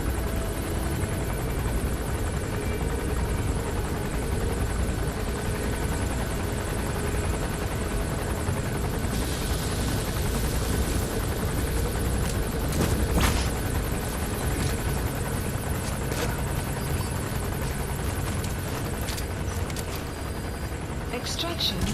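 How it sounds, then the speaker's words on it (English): A helicopter in the video game Metal Gear Solid V: The Phantom Pain, a loud, continuous rotor roar filling the whole stretch, with a few sharp bangs mixed in and talk underneath. "Come on, Chopper, leave."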